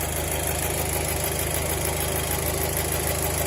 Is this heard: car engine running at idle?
yes